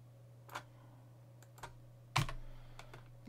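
Typing on a computer keyboard: a few sparse, close key clicks spread over a few seconds, with one louder keystroke, over a faint steady electrical hum.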